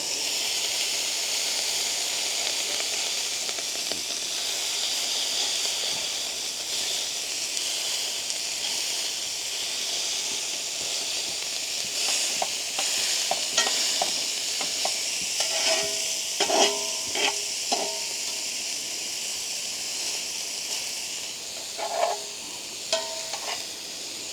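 Oklahoma onion burgers fry on a griddle outdoors at a campervan campsite, giving a steady close sizzle throughout, with sharper spatula scrapes and taps joining in the second half; no one talks.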